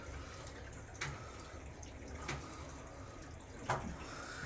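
Water runs steadily from an overflowing bathtub, a faint continuous wash with a few soft splashes or knocks at intervals.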